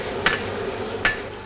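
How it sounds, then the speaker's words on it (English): A blacksmith's hammer strikes a hot chain link to forge-weld it, two sharp ringing metallic blows about three-quarters of a second apart, close and loud over a low steady hum. "Then with his hammer, he welds the link."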